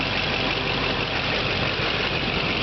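Stock, low-mileage Chevy Silverado 2500 diesel idling steadily with an exhaust leak at the turbo downpipe, a continuous close, dense rumble with a hissy, chattering edge and no voices.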